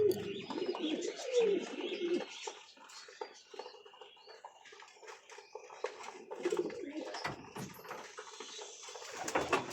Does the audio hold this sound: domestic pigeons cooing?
yes